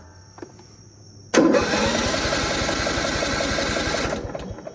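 Engine of a used vehicle bought for resale cranks to life after a battery test, then settles into a steady, close mechanical idle with a fast, even chatter, cutting off near the end.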